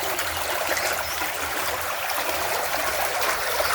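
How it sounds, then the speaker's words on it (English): Steady flowing water at a village water source in Africa, a continuous broadband rush like a nearby stream, with no talking over it. "so you can see the water is flowing"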